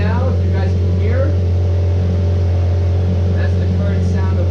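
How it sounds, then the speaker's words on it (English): A straight-piped Saab 9-5 with an exhaust leak idles steadily nearby, a constant low drone with faint whistling hiss from the leak, running alone throughout. "that's the current sound of the exhaust leak."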